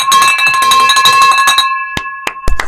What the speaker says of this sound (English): You want me to ring the bell?